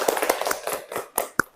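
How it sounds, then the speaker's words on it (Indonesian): A group of students claps during a school group counseling session, giving a short run of scattered, fairly close hand claps, uneven in rhythm, ending with one sharper clap. "Tepuk tangan dulu dong"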